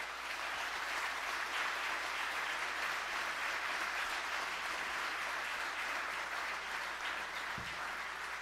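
A school board candidate forum audience applauds steadily as the candidates come up, a dense, even wash of clapping sustained throughout without speech.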